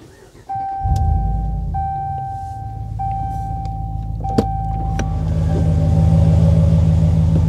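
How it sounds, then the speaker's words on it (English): A Ram Rebel pickup truck engine cranks and catches, then settles into a steady low idle that swells slightly louder toward the end, with a thin electronic chime tone sounding repeatedly over it. "I'm going to start my car now"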